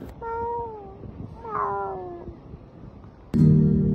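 A cat meows several times in drawn-out tonal calls, fairly close, with faint room background and a louder burst of noise near the end.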